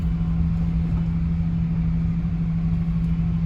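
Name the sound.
heavy lorry with five-axle trailer backing up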